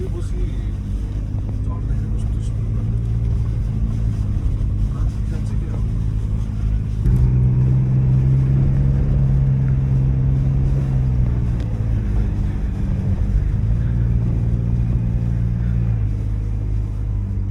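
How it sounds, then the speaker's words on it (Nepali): A vehicle engine labours as it climbs a steep, dangerous uphill dirt track in Mustang, Nepal, droning steadily and growing louder partway through as the load increases, with speech heard over the engine. "दाइले चाहिँ यहाँ एउटा डेन्जर उकालो चढाउनु हुन्छ भन्नुहुँदैछ"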